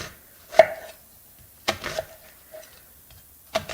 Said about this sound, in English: I will cut the onion